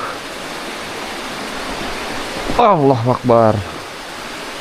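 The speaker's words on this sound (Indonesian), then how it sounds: "Ada aliran sungai juga ya di sini ya" An underground river rushes steadily inside a cave, a loud, constant broadband roar of flowing water heard throughout, with a voice briefly speaking over it midway.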